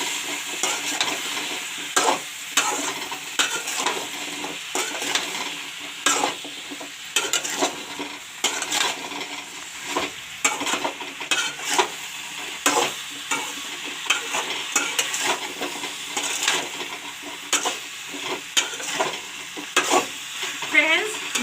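A spatula stirs a radish and potato mix frying in a pan, with steady sizzling and repeated scraping strokes against the pan's surface, close and continuous, alone.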